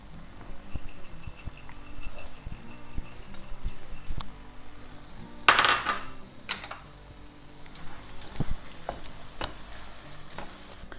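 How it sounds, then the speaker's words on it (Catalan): Pine nuts tossed into a pan of sizzling spinach with raisins, the Catalan-style dish frying steadily with soft stirring, small ticks and a brief louder rattle of nuts hitting the pan about midway; no voices. "I ja podem tirar els pinyons"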